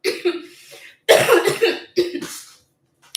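A few sharp, close coughs in quick bursts, separated by short silences.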